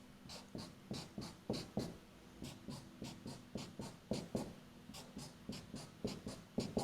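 Marker strokes on a lecture board drawing a field of X's, a quick steady run of short paired scratchy squeaks, each tap-and-stroke repeating close by with no talking.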